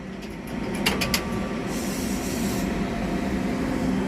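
An electric KRL commuter train departs a station during a 100-year KRL celebration, giving a steady low rumble with a brief cluster of sharp clicks and a faint rising whine early on.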